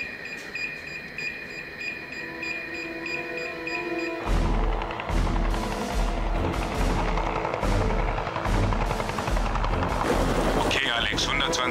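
A rescue helicopter in a radio play starts up after a stretch of beeping tones. A loud, thumping rotor roar with rhythmic pulses builds and holds near.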